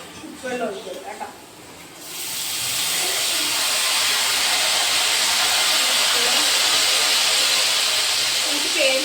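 Water poured into a hot pan while cooking Kottayam-style jackfruit sets off a loud, steady steam hiss that starts abruptly after a couple of seconds of quieter sounds and holds for about seven seconds.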